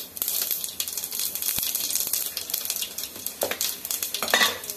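Mustard seeds and cumin sizzle and crackle in hot oil for a stir-fried okra dish. Fast bright spitting runs all through, broken by a few sharp pops and clinks of a utensil against the pan.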